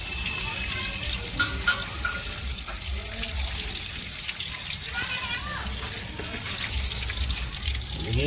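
Tap water runs steadily into a sink while button mushrooms are rinsed in a home kitchen, a continuous splashing hiss with small clinks, and a person talks over it.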